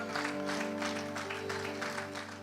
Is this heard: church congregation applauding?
yes